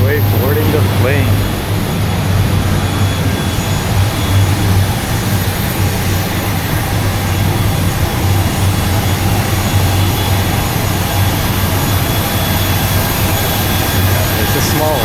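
A small passenger airplane's jet engines drone steadily during boarding, a loud continuous low hum and whine with airy noise throughout, while people talk over it.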